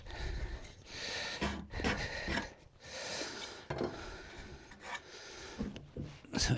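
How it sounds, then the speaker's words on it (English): Rasp filing the tips of a wooden dog gate, a steady rough scraping in repeated strokes with brief pauses between them, close by. "So I'm just going to angle, get a rasp."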